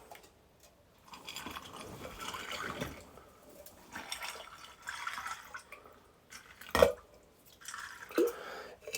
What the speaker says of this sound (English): we're going to pour this over top of that crushed ice